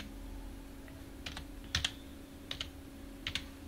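Sparse keystrokes on a computer keyboard while working in AutoCAD, a handful of quiet, separate clicks in small pairs over a faint steady hum, with no talking.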